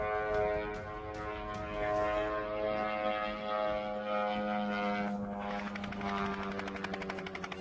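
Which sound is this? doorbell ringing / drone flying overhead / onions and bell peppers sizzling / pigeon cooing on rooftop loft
drone flying overhead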